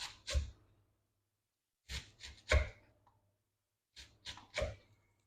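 Knife chopping ingredients on a cutting board in three short bursts of two or three quick strikes each, separated by pauses; close and crisp.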